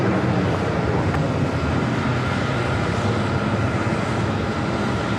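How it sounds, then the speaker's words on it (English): A JetBlue Airways Airbus A320 airliner at JFK airport fills the air with a steady, loud broadband engine roar that holds constant throughout, with no voices. "JetBlue Airways flight 1677 on this A320"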